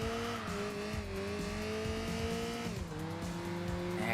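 A boxy Nissan Skyline in the racing game Enthusia Professional Racing brakes hard, its steady engine drone dipping while tires squeal faintly beneath, with no one speaking.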